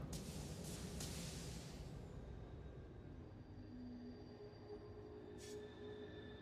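A train rolls along its track in the video game Satisfactory, a steady rumbling rail noise with a few brief hiss bursts early and near the end, holding an even loudness throughout.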